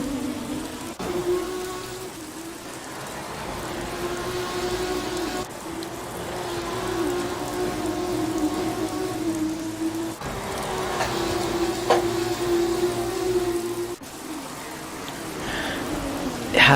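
Lighter rain falls in the Assetto Corsa racing game during a Formula 2 race in Spain, a continuous hiss beneath droning race car engines, broken by several abrupt cuts.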